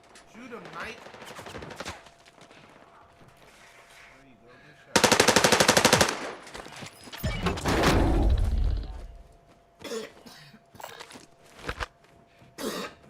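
Gunfire in the DMZ video game: a loud, sustained burst of automatic fire, then a heavy rumbling blast and scattered single shots, with players talking and a cough over the action.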